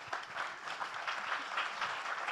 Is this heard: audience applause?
yes